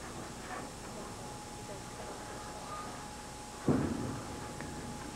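A bowling ball crashes into the pins at a 1990 LPBT Hammer Western Open match, one sharp clattering impact rising out of steady arena ambience.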